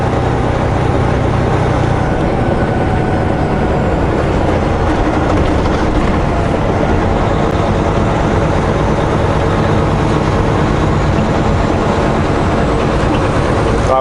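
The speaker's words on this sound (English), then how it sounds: "Another SkyTrain in front of us over there." An elevated SkyTrain light rail train rumbles steadily past for the whole stretch in Greater Vancouver, a broad continuous roar with faint rhythmic clatter and no voices.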